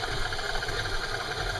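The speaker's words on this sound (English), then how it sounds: "KitchenAid mixers make life so much easier." A KitchenAid stand mixer works gluten dough with a steady mechanical whir and a low, even motor hum, heard up close and alone.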